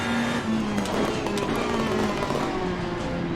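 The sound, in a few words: engine pops and bangs of a race car in the video game Assetto Corsa Competizione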